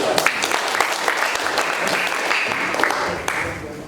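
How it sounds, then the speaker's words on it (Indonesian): Applause at a press conference held by a regent after the first patient recovered: a room of people clapping steadily for several seconds, with sharp individual claps standing out and a few voices beneath. "Tepuk tangan dulu"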